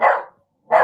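Two short, loud dog barks close by, separated by a brief silence.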